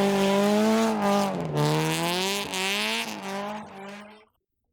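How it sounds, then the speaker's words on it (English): A Honda Civic rally car races along a stage of the 2020 Rallye Perce Neige, its engine loud and close, revving up and down through gear changes before cutting off abruptly. "Leading the way are Mathieu Leblanc and Eric Dubé in their Honda Civic"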